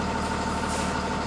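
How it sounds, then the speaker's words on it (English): A school bus engine rumbles steadily at low speed as the bus creeps forward during a brake test, a constant loud idle-like drone with no pauses and no talk. "I'm going to pull the bus forward no faster than 5 miles per hour"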